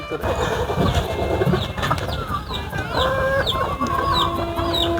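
Several chickens cluck and call close by in a busy poultry farm setting during rain, with overlapping bird sounds throughout.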